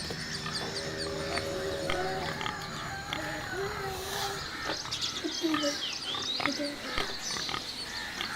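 Pigs grunt and squeal in a village setting, mixed with clucking and crowing chickens in a busy, steady farmyard din of overlapping animal calls.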